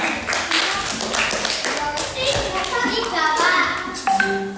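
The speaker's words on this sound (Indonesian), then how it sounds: "Tepuk tangan kelompok 3." A group of fifth-grade children in a classroom claps together in a lively patter while young voices chatter and call out over it, close and busy.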